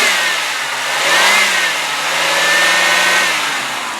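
A 1995 Oldsmobile Cutlass Ciera with a 3.1 liter V6 and automatic transmission revs steadily, its engine note rising and easing back in two smooth swells, loud and close with no talking.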